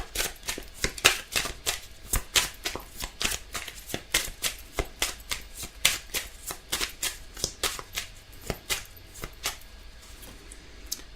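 Tarot cards are shuffled and drawn nearby, a rapid run of crisp card snaps and riffles in an irregular rhythm with no talking.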